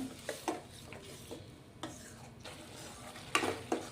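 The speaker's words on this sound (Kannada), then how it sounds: "ಶುಂಠಿ ಬೆಳ್ಳುಳ್ಳಿ ಮತ್ತು ಟೊಮೊಟೊನ ರುಬ್ಬಿರೋದನ್ನು ಹಾಕ್ತಾ ಇದ್ದೀನಿ ನೋಡಿ ಇದೊಂದು ಎರಡು ನಿಮಿಷ ಚೆನ್ನಾಗಿ ಫ್ರೈ ಮಾಡ್ಕೋಬೇಕು" A ground ginger, garlic and tomato paste fries in a pan for a restaurant-style paneer matar curry. Soft intermittent scrapes of a spatula stirring over a faint, continuous sizzle, fairly quiet and close, with no voices.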